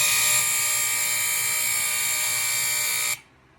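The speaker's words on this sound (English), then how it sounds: "Basically just a whole bunch of AC smoke alarms, as you can see." Many AC smoke alarms sounding together as a recording played back, a loud, piercing, steady high-pitched tone that cuts off abruptly near the end.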